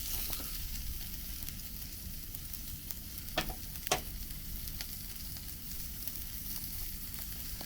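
Bacon frying on a Campingmoon Solo stainless steel grill DO-21 at a campsite, a steady close sizzle with a couple of sharp pops or utensil clicks near the middle.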